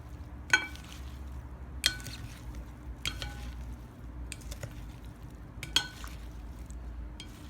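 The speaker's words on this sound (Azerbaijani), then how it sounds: "Salatımızı yaxşı-yaxşı qarışdırırıq." Vegetable salad being tossed with oil, giving sharp, separate clinks and scrapes of utensils against a bowl at irregular intervals of about a second, close and clear over a low steady hum, with no voices.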